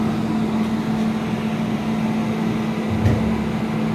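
A Risco Brevetti RS3000 vacuum filler's dumper lifting its load gives a steady, even mechanical hum with a low motor tone, constant and fairly close, with a slight bump near the end.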